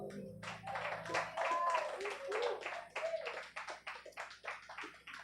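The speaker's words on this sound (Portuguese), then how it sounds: "Você pode aplaudir e glorificar a Deus?" Church congregation clapping during a Holy Communion service, a dense run of hand claps that starts at once and then turns into a looser, uneven rhythm, with voices mixed in throughout.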